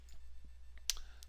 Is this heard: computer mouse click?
yes